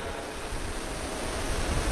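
Heavy rain pouring down on an open-air religious gathering in Gurugram, Haryana, a dense, loud, unbroken hiss of broadband noise with low rumbling gusts and no voices.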